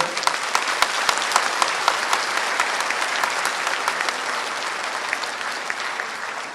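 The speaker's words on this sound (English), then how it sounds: "Let's give a big applause for them." Audience applause at a Social Business Day 2025 gathering: a dense, even wash of clapping from a large crowd that holds steady for several seconds, with no voices over it.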